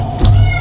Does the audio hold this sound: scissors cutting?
no